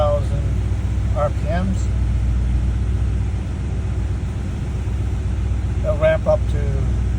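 Steady low rumbling idle of a 1971 Mercedes 300SEL 6.3 on cold start, held at a fast warm-up idle, continuous and close, with someone speaking briefly over it at the start and end.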